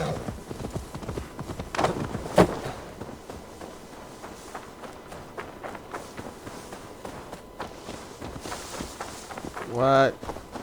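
Horse hooves clip-clop in Assassin's Creed Valhalla as the mount is ridden, a steady run of soft, moderate hoof beats under game ambience, with a brief louder thud near the start and a sharper burst near the end.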